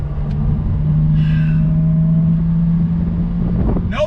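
Steady, loud engine drone from a 2021 Jaguar F-Type R-Dynamic supercharged sports car under throttle, holding a fairly constant pitch for about four seconds with a brief lift in tone near the end.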